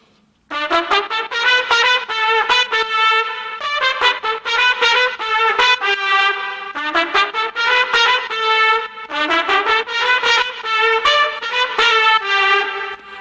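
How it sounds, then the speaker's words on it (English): The lower trumpet part of a horn arrangement: a brassy line plays a lively rhythmic riff of short punchy notes in repeating phrases, loud and upfront with no voices. "And then here is the lower trumpet."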